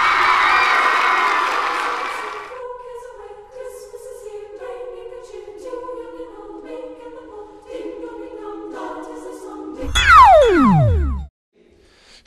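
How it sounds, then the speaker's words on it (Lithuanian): A studio audience on a children's television show cheers and applauds loudly, then settles into a softer crowd murmur mixed with music, before a final sweeping swoosh effect and sudden silence. "Sutikit visi aplodismentais."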